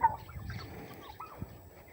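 Turkeys and other fowl on a poultry farm make soft, warbling gobbling calls at a moderate distance, set over a low murmur of farmyard noise.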